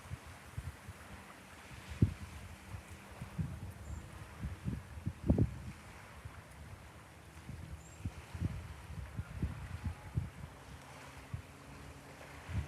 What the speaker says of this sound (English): It's a bit breezy out here right now.